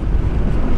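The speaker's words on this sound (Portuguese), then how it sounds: "Eu aqui já estou a sentir aqui aquele vento à rajada." Strong wind gusts buffet the microphone while riding a Honda Forza maxi scooter downhill through a mountain range, a loud, continuous low rumbling roar with no voices.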